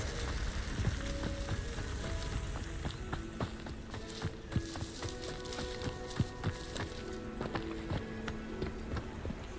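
The Incendio fire spell in Hogwarts Legacy burns with a steady crackling, sizzling hiss, scattered with small pops and faint tonal chimes, moderately quiet throughout.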